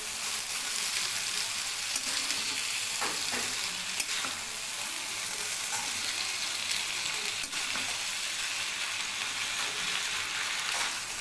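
Chow mein sizzles steadily as it is stir-fried in a pan with chili sauce. A close, constant frying hiss runs throughout, with occasional clicks of the utensil against the pan.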